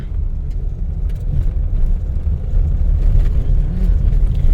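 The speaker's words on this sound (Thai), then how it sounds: "รถกันหลายๆค่ะสวนไปสวนมาค่ะ" Cars travel both ways along a busy road between Bueng Kan and Nong Khai in Thailand. A steady, loud, close roar of traffic swells slightly as vehicles pass.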